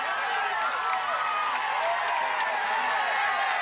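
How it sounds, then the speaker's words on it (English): A massive roadside crowd on Alpe d'Huez during the Tour de France, a continuous roar of cheering and shouting, dense and fairly far off, with commentary speech running over it. "Just look at the massive, massive crowd here now."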